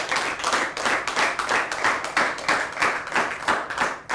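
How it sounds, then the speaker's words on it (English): Audience applause for a school debating team, a small crowd clapping in a quick rhythmic pattern of distinct claps, fairly close and steady throughout. "Please, a round of applause for our debating team."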